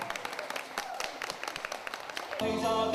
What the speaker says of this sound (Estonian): Aplausi.